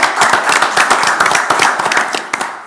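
Audience hand clapping fills a commissioners meeting room, a dense run of sharp, close claps that holds steady for a few seconds before starting to thin out.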